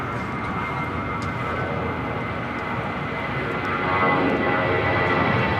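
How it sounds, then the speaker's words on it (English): A Spirit Airlines Airbus A319 takes off at LAX for Houston, its engines a continuous mid-distance roar that grows louder toward the end. "This is Spirit Airlines 591 taking off to Houston Intercontinental on an A319."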